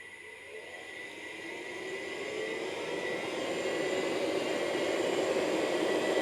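An Azure Dynamics AC24 electric motor runs steadily on a test stand, giving a continuous whine with rising tonal lines that slowly swell in loudness, with no voices present.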